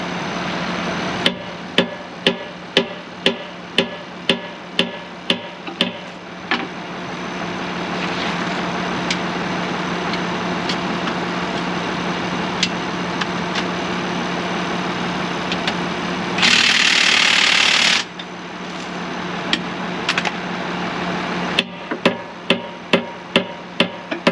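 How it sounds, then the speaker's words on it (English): An International Harvester 1086 tractor idles steadily while a hammer strikes its wheel in quick runs of sharp, ringing blows, first in a long series, then a pause with a brief hiss-like burst, then another volley near the end. "I'm gonna stop here and hammer on this for a minute and make sure it is still tight"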